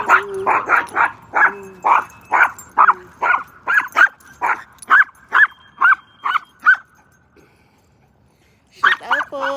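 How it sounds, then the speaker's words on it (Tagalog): A pet dog barks in a rapid, loud series of about a dozen and a half close yaps and bow-wows, falls silent for a couple of seconds, then starts barking again. "Nagbabark na naman."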